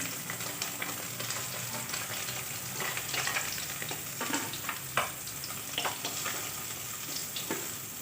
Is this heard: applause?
no